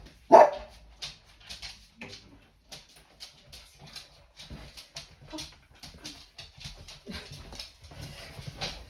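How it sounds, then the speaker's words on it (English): A dog barks in short, scattered bursts, the first one loud and close, the rest quieter and irregular over a background of faint rustling. "I apologise, but I have the dog again, and she's barking at the chair."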